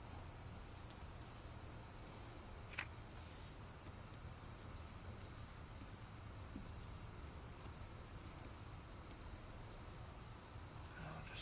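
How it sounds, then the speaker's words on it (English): Crickets chirp in a steady high-pitched drone under a faint hiss of quiet night ambience, with a couple of brief soft clicks along the way. "Now it's just the crickets."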